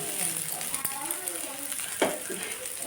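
Cauliflower pieces frying in a pan give a steady close sizzle with a few light stirring clicks, while someone talks over the cooking.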